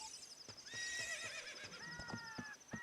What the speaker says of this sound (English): I guess I'll leave my horsey here.